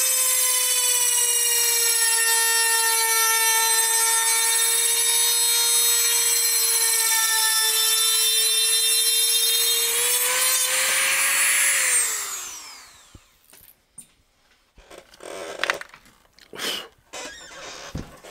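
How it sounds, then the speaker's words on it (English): Power tool whining steadily as screws are cut off a Squier Bass VI guitar, a loud sustained high drone that winds down and stops, followed by scattered clanks and handling noises. "We're gonna have to cut off those screws."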